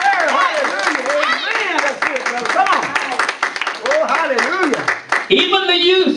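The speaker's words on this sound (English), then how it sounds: "Let's give Jesus a clap on this." A church congregation claps during a worship service, the clapping mixed under continuous voices and lively vocal sounds rather than standing alone.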